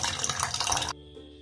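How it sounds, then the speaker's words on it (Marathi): Fresh paneer being rinsed under clean running water, a close, full splash of flowing water for about a second that then cuts off abruptly, leaving faint quiet. "हे पनीर स्वच्छ क्लीन पाण्याने क्लीन करून घेऊ"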